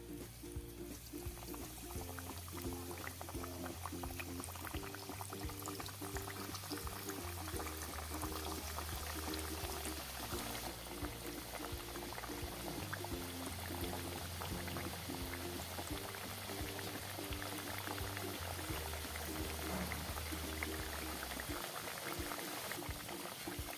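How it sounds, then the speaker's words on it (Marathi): Kothimbir vadi pieces sizzling and bubbling steadily in hot oil, a continuous close frying hiss with a low hum underneath and faint background sounds. "तेल हे आता आपले छान तापलेले आहे. तर आता आपण यामध्ये वड्या सोडूया."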